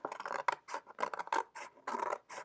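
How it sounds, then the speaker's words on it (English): Scissors cut through a paper plate, a rapid series of close, crisp snipping and rasping crunches in quick uneven bursts, with no voices over them. "you'll cut out the circle of the paper plate, the inside portion of it"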